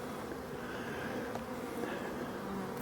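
Honeybees in mid-October swarm around the entrance of their hive on orientation flights and foraging returns, a dense, continuous buzzing hum close by with no voices.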